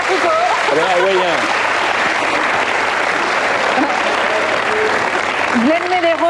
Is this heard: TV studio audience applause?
yes